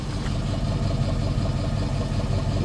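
A 2010 Ford F250 XL utility truck with a toolbed idles up close, its engine giving a steady, even low rumble with no revving, alone without voices.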